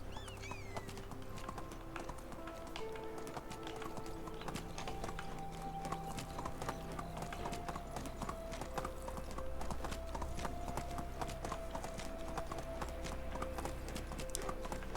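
Rapid hoofbeats clatter steadily throughout, a galloping horse in the game Medieval Dynasty, with low music tones humming underneath.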